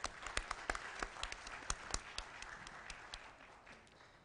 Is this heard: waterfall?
no